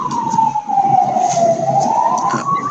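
An emergency vehicle siren near a home wails in one long continuous tone that slowly dips and rises again, loud and close, over a steady rumble of road noise.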